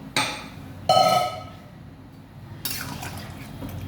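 Water poured into a thin prawn, pointed gourd and potato curry in a pot, heard as a couple of short splashing pours with drips and faint clinks of utensils, fairly quiet and close.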